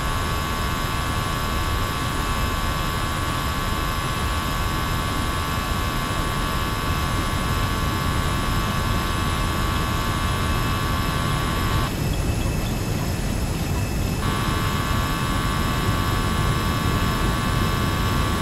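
Airbus A320 jet engines at full takeoff thrust in the X-Plane 11 flight simulator, departing LaGuardia over New York City: a loud, steady, continuous roar with a high whine, holding even throughout.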